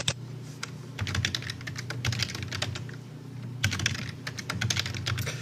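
A password being typed on a computer keyboard comes through as quick bursts of close, crisp key clicks in short uneven runs, pausing briefly between groups, with no one speaking over them.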